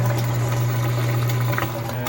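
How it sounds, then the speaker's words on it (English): Drain pump of an LG washer/dryer combo pumping water out after replacement, a steady low motor hum with gurgling water over it, close and constant. "You can hear it draining."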